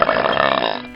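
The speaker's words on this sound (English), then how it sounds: "He burped." A single loud, drawn-out burp, close and voiced, with a rough buzzing quality that fades out after about a second, with no talk around it.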